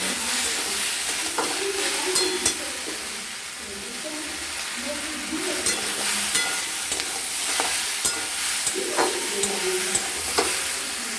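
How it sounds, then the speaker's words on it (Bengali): Mixed vegetables fry and are stirred in a pan, giving a steady sizzle broken by repeated sharp spatula scrapes and clanks, close by, with faint talk in the background. "দিয়ে এদিকে সবজিটাকে নাড়াতে হবে।"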